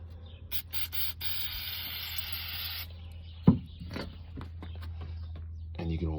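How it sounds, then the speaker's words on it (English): VHT Caliper Cleaner is sprayed from an aerosol can onto a cloth for wheel cleaning, making a steady close hiss for about two seconds, followed by scattered clicks, rustling and a single sharp knock. "Just spray a little bit on the cloth."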